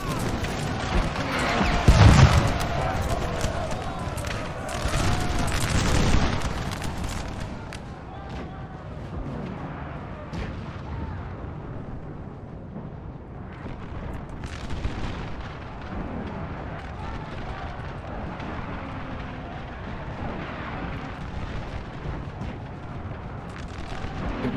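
Howitzer artillery booms twice early in a Napoleon Total War grand battle, then a long stretch of rumbling, crackling battlefield noise with scattered distant shots follows.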